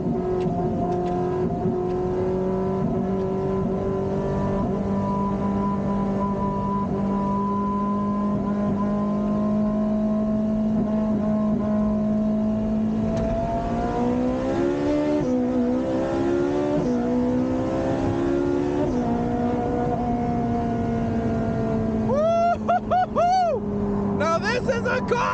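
A Lexus IS300 fitted with new sway bars drives along, its engine droning steadily and then rising and falling in pitch as it revs and shifts, loud and close inside the car, with people talking over it.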